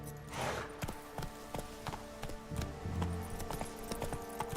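A horse in The Witcher 3 clip-clops along at a steady trot, its hooves striking in an even rhythm over a quiet, slightly hollow game ambience.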